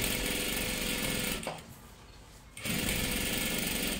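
A sewing machine runs steadily while stitching a dress seam close to the edge, pausing for about a second before the loud, even whir starts up again.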